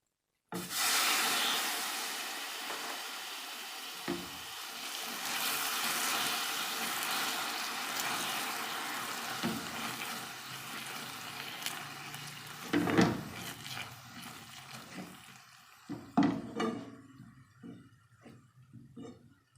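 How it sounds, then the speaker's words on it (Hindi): Water is poured little by little into hot cooked sugar for an eggless plum cake, raising a steady loud sizzling hiss that fades and breaks into a few clatters and splashes near the end. "तो अभी हम इसमें थोड़ा थोड़ा करके पानी शामिल करते हैं।"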